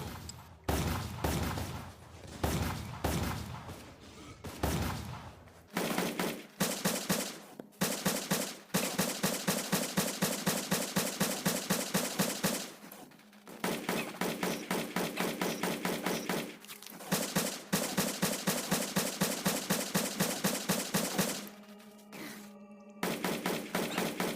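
Repeated weapon fire aimed at generators in the mobile survival game Westland Survival, Digger's Den level: long loud runs of rapid shots with short pauses, closing on a few separate thuds.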